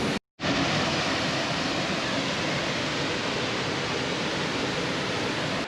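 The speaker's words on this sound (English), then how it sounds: "hopefully you can hear us because the waterfall's pretty loud." Abrams Falls in the Great Smoky Mountains roars loudly in a dense, continuous rush of water, close by, after a brief moment of silence at the start.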